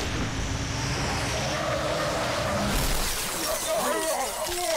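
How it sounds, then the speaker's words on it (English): A car in the Halo 3: ODST video game smashes into a group of Brute enemies, a loud burst of crashing, shattering impact noise and rumbling engine that swells near the end amid other game effects. "a car just came out of nowhere. Smashed all the brutes."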